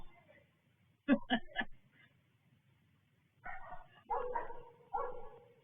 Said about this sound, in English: the loudest blinking bark I have ever come across